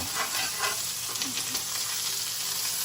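Freshly turned steaks fry in a pan with a dense, continuous sizzle that stays fairly loud and even throughout, with no talking.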